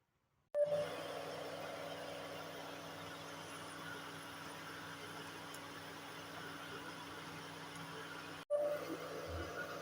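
A pressure cooker used to cook lemon pickle gives off a long, steady steam whistle and hiss that starts suddenly, breaks off for a moment and then resumes at full strength.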